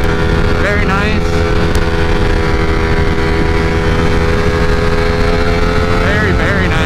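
A 2020 Ducati Streetfighter V4 with a flash-tuned ECU roars continuously at high revs while riding, loud and close with wind rush, the engine pitch rising and settling through throttle changes.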